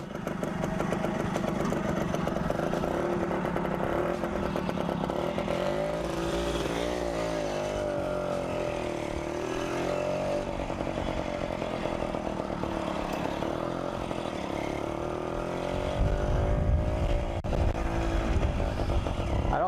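A 1939 Terrot 100 MTR motorcycle runs on a road trip, with a continuous buzzing small-engine drone close by. The pitch rises and falls as it rides, mixed with wind noise.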